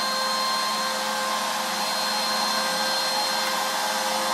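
A CNC machine carves a walnut board with a small-diameter ball nose bit, giving a steady, loud, unbroken whine of spindle and motor noise with no pauses and no voices.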